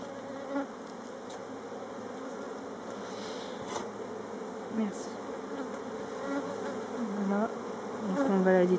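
A swarm of honeybees is being moved into a hive, and their steady buzzing drones close by throughout, with a few louder passes near the end.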